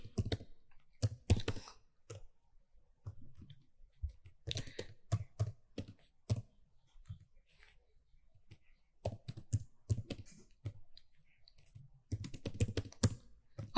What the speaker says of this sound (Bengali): ম্যানুয়ালি এমপ্লয়ি নেম লিখব